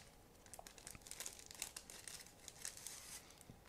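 A small plastic bag holding decals for an Eduard 1/48 Hanriot HD.2 World War I airplane model kit is opened up close, giving steady crinkling and crackling with a few sharper tearing bursts.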